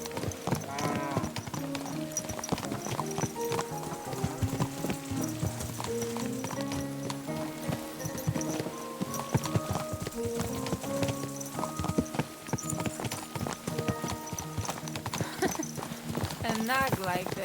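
A horse's hooves clip-clop steadily at a walking pace in Kingdom Come: Deliverance 2, close and continuous beneath game music, with a brief whinny and people talking over it.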